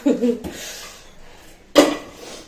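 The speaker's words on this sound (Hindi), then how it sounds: "हम इससे लोगों के बर्तन धोते हैं।" Metal pots and pans clatter and scrape while being washed with Pitambari cleaning powder, a bright clank near the start and a louder scraping knock later, close and without talk.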